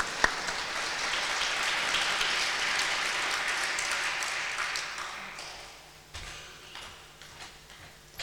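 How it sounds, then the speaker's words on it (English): A crowd at a student awards ceremony claps in a dense, rain-like patter that holds steady, then thins and fades into scattered individual claps near the end. "Last round of applause."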